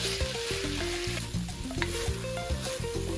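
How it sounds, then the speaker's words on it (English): Ground beef browning in a pan for a Bolognese ragù, a steady close sizzle with light stirring scrapes throughout, no voices. "And basically just keep browning this beef"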